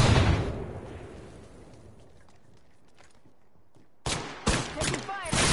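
Bursts of gunfire ring out in a battle royale video game match, a loud volley at the start, then quieter scattered shots, and a fresh string of close, sharp shots near the end.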